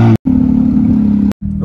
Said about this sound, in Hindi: देख रहे साउंड गाड़ी का